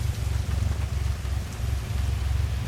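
Steady rain patters throughout a simulated landing at Gilmore County Airport in Microsoft Flight Simulator 2024, a continuous even hiss over a low rumbling drone, with no voices.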